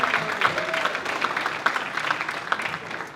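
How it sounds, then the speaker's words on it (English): Moderate applause from an audience at a Black History Month event, a dense patter of clapping held at an even level for a few seconds, with faint voices mixed in. "Let's give him a round of applause"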